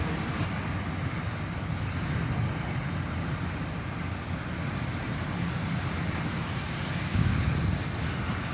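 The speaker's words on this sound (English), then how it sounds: "An intermodal train, coming in slow due to that train in front of him." A long intermodal freight train led by ES44ACH and AC44CW locomotives rolls slowly and steadily around a curve, a continuous rumble with faint wheel squeal rising near the end.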